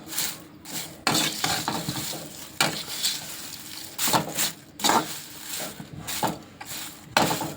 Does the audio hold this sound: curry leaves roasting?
yes